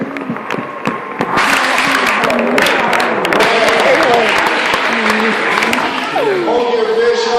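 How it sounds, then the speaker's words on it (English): A crowd at a senior lock-in fishing event gives a loud round of applause with scattered whoops. Voices call out over the clapping, and the cheering stays full until the end. "Let's give them a big round of applause."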